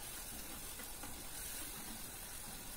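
Spice paste fries in oil in a pan for Bengali pabda fish jhal, giving a soft, steady sizzle and hiss throughout with no talking.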